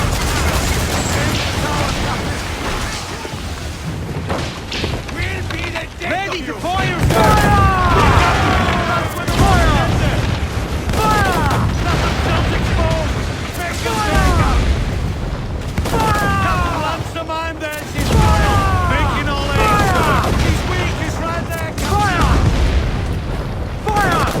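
Mortar and cannon fire erupts around a sailing warship in Assassin's Creed IV. Heavy booms and rolling blasts recur amid constant battle noise, with crew voices shouting over the fire.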